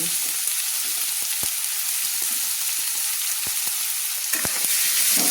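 Thin strips of potato and bottle gourd stems fry in a pan for a Bengali fish curry, with a constant bright sizzle and scattered scraping knocks as a spatula stirs them.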